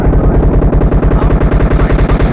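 Rapid automatic gunfire in the mobile shooter game PUBG Mobile, a loud continuous burst of evenly spaced shots lasting a couple of seconds with no talking over it.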